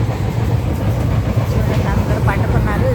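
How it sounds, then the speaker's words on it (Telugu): Inside a daytime Sabari Express passenger train, a steady loud rumble of the carriage runs throughout with faint murmuring of passengers underneath. "ట్రైన్లో ఉన్నాము."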